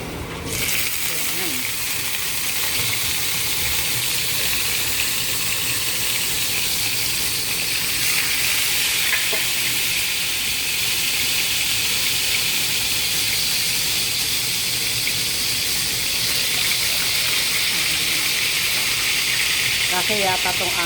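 Pork chop pieces fry in hot oil with a steady, dense sizzling hiss that holds loud and unbroken throughout, close up, with no one talking over it.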